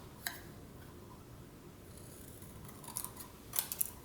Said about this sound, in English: I just took a small scissors and just cut around them, leaving just a little bit of a small border